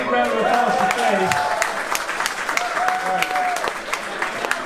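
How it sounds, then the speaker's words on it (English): An audience at a video game showcase event applauds after singing happy birthday, steady crowd clapping with a couple of voices talking over it. "a big round of applause for Fee"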